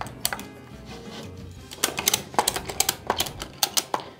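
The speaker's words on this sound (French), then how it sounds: "je tire un petit peu et je vais actionner le cliquet" The ratchet on a tie-down strap is worked by hand, giving sharp, close mechanical clicks, sparse at first and then in quick irregular bursts, with no talking.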